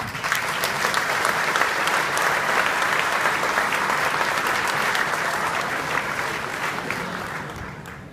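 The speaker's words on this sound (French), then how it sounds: "L'ensemble des élus de la majorité, mais aussi de l'opposition, on peut les applaudir." An audience at a civic speech in Miramas applauds, a dense, sustained roar of clapping that holds steady for several seconds and tapers slightly at the end, with no talking over it.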